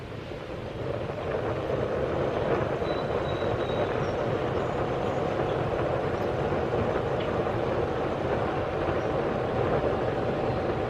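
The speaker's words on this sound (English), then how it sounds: "Let's see if a bit of a blower will help." Air blower feeding a small homemade side-blast microforge makes a steady, loud, broad rushing roar that holds continuously after a brief quieter start.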